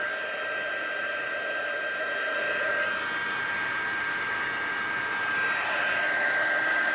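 An embossing heat tool blows a steady whirring hum while heating embossing powder from underneath on a Christmas card, close and unbroken with no talk.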